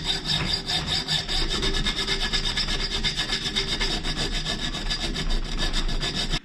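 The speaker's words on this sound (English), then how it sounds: "I'll use my hacksaw again just to get the middle of the" Hacksaw cutting between two worn teeth of a quadrant gear on an electric step, a close, steady back-and-forth rasp of rapid rhythmic strokes continuing without pause.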